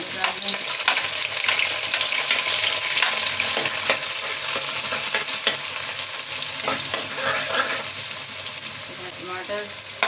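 Onions frying for mash daal, with a dense, continuous sizzle and frequent crisp stirring clicks throughout, close and fairly loud, with no speech over it.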